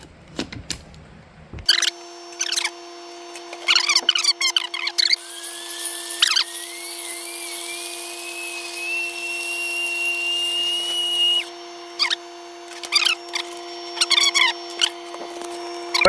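A small grinder whines steadily as MLCC capacitors are ground up, with a rising high-pitched tone through the middle and rattling, clattering bursts at the start and end, close and fairly loud.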